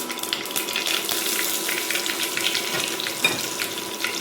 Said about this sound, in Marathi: 5 मिनिटांपर्यंत तेल टाकल्यावर आपण जिरं मोहरी टाकू.